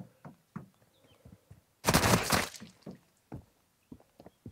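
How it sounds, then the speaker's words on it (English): Gunfire in the mobile shooter Call of Duty Warzone Mobile, played on an iPhone 15 Pro Max, comes as a burst of rapid shots in the middle with scattered thuds before and after. No one talks over it. "Oh, I'm being shot at."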